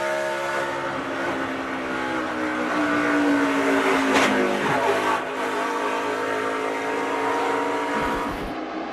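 A NASCAR truck engine roars from the onboard camera during the 2011 NC Education Lottery 200, a loud sustained howl whose pitch shifts with throttle and gear changes, briefly dipping before climbing again.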